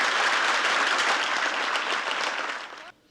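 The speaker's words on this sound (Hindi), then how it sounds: "बच्चों बजाओ जोर की ताली।" Loud, dense clapping from a group of children, a steady burst of applause lasting a few seconds before cutting off abruptly.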